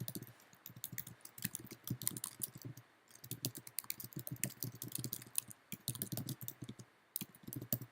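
Steady typing on a computer keyboard, close and fairly quiet, with irregular runs of key clicks and a brief pause partway through.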